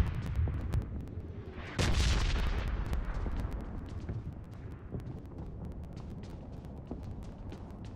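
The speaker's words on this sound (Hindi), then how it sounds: "घर के ऊपर बम गिर रहा है" Bombs fall and explode on a house in PUBG Mobile: a heavy rumbling blast lands about two seconds in, followed by continuing crackling booms and scattered sharp bursts that fade slowly, with no talk.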